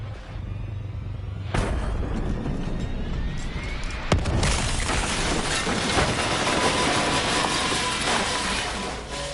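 A plane crash explosion in the Call of Duty video game: a sudden heavy boom gives way to a loud, sustained rumbling roar and debris noise that carries on to the end.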